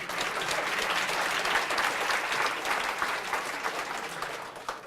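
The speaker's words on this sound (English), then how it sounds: "let's give them one more round of applause" Sustained audience applause at a school quiz-show evening, dense and even clapping from a full room that holds for several seconds.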